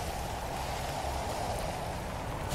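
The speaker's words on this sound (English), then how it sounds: "I didn't know rain could do this." Rain falls in a Roblox video game as a steady, even hiss of heavy downpour that holds at the same level throughout with no talk.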